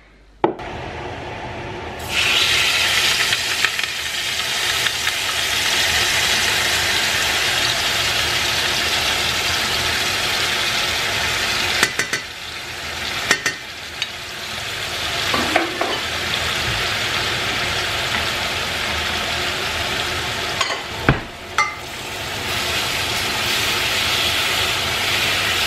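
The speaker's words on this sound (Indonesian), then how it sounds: "Ini kita tumis sampai kering dan harum banget" Sambal paste being stir-fried in a pan, a loud, steady broad sizzle lasting throughout, broken by a few stirring scrapes and clanks, with no one talking.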